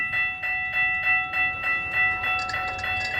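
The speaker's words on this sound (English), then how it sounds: "here I am in downtown Bunnell, and the train's already coming" A Florida East Coast Railway train arriving in downtown Bunnell, Florida, rhythmic clanking pulses repeating every few tenths of a second over steady ringing tones, fairly close and with no voices.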